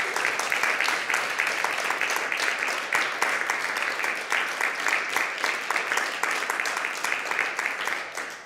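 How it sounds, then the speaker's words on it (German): An audience at an award ceremony applauds steadily, a dense sustained clapping that stays loud and even throughout with no letup. "Und dieser Applaus gilt natürlich allen Preisträgerinnen und Preisträgern auch noch einmal vom Mediuspreis."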